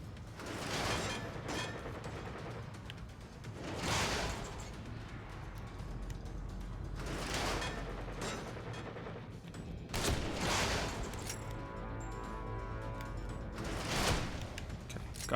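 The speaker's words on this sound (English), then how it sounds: "Zombie with a machine gun?" In the horror game The Evil Within, a zombie fires an assault rifle in about five short, heavy bursts spread evenly a few seconds apart, fairly faint and without speech.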